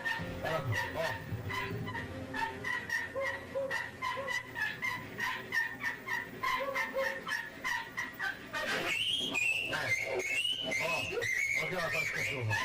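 A dog barks repeatedly in short bursts with yelping, whimpering cries over background music and a voice.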